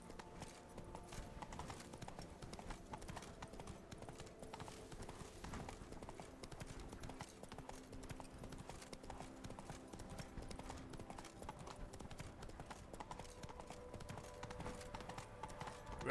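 Roach the horse trotting in The Witcher 3, a steady rhythmic clip-clop of hooves that runs throughout, faint and quite distant, with nobody talking.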